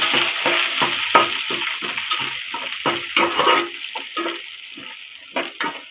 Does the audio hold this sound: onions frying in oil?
yes